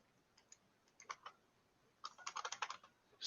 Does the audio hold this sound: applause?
no